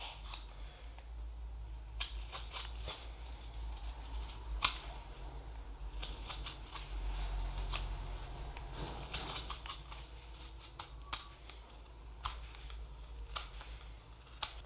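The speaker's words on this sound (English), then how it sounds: "I'm just pulling the spoon against the blade" A steel knife shaves a green-wood spoon as the spoon is drawn against the blade for finishing cuts, giving faint, scattered crisp ticks and short scraping strokes over a quiet background.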